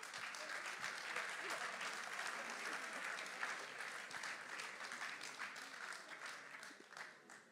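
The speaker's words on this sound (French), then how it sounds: "on peut l'applaudir" An audience in a church hall applauds as a guest arrives, with sustained, crowded clapping at moderate distance that slowly thins out toward the end.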